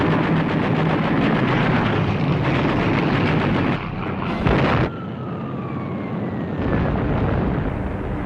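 Archival WWII battle audio for bombs and torpedoes striking the aircraft carrier Lexington: a dense, loud roar of blasts and rumbling fills the whole stretch, with a brief lull and a renewed surge partway through.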